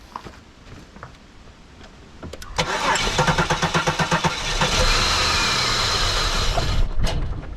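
Holden Commodore engine starting after fuel pump replacement: a few faint clicks, then the starter cranks in rapid rhythmic pulses before the engine catches and settles into a loud, steady idle close by.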